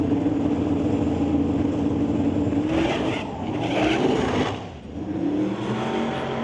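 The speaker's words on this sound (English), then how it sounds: "it is both drivers struggling to get traction off the line" Turbocharged drag race cars launching side by side off the line, a loud roaring engine wail with rising revs and a brief dip as traction breaks, close and without talk.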